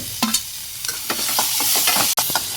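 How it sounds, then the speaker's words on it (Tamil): Onion, curry leaves and green chillies sautéing in a pan for wheat kanji, a steady close sizzle broken by several sharp scraping stirs with a spoon, with no talking. "வெங்காயம், கருவேப்பிலை, மிளகாய் எல்லாமே போட்டு ஒரு 2 நிமிஷம் வதக்கிக்கலாம்"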